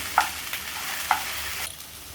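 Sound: okra frying and being stirred in a pan

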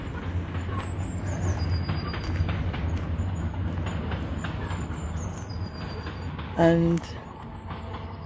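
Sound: train trundling along

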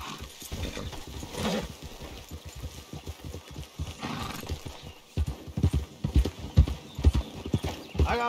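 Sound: horses riding in video game Red Dead Online

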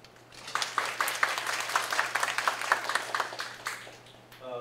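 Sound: audience applause welcoming speaker

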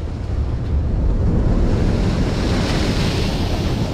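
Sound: ocean waves breaking on jetty rocks

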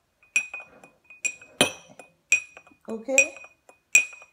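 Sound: spoon stirring honey syrup in a glass

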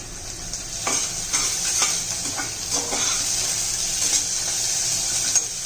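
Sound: sautéing onion and tomato in a pan

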